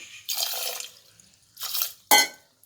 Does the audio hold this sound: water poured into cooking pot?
yes